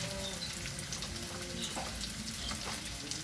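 Garlic sizzling steadily in a hot pan as the base for pinakbet, a dense, continuous crackle of frying holding at an even level throughout, with no voices over it.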